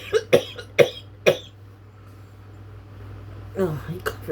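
Three sharp coughs come close together near the start, then a quiet pause before a couple of softer coughs follow, all close to the microphone.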